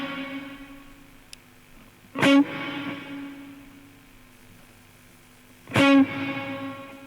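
Two loud electric guitar strums run through a Line 6 Helix reverb set with high pre-delay, each followed by a delayed echo-like repeat and a long decaying wash in otherwise quiet surroundings.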